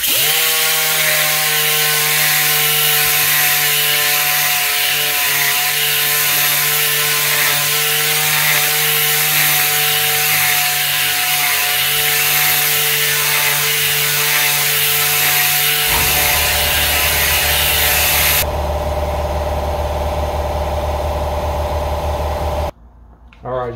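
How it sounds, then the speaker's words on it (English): Clear coat being polished with a 3M sand and polish system, a loud continuous whirring machine drone with steady harmonic whine that shifts pitch partway through, then cuts off abruptly near the end. "And now what we're going to do is polish."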